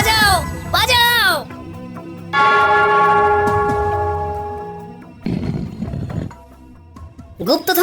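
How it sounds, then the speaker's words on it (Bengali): Cartoon bell rung in a comic Bengali animated scene, a bright sustained metallic tone with ringing overtones that swells and slowly decays, framed by animated voices before and after. "ওই ঘন্টাটা বাজাও, বাজাও"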